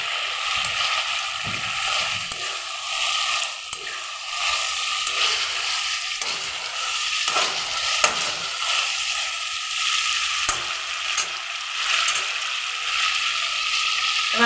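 Pointed gourds sizzle and fry in a pan of cooked-down spice paste, stirred with a utensil that scrapes and clatters steadily throughout, close and fairly loud, with no talking.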